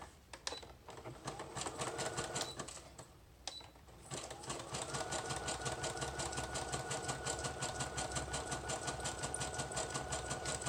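A sewing machine stitches a paper journaling card in a steady, rapid mechanical chatter with a whirring motor hum, briefly pausing and restarting before running continuously, heard fairly close and alone.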